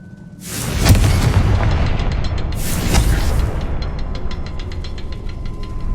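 Explosive Confringo spell blasts in Hogwarts Legacy on PS5: two loud booming bursts, the second about two seconds after the first, each rolling into a rumbling roar with crackling debris that fades into lingering ringing tones.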